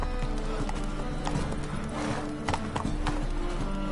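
Roach, the horse in Witcher 3, gallops in a rapid, rhythmic clip-clop of hooves that fills the whole stretch at close range and steady loudness, with no voices over it.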